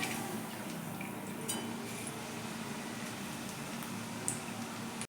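Aloo bhujia sev frying in hot oil at home gives a steady, quiet sizzling hiss, with occasional faint pops and crackles and no talking.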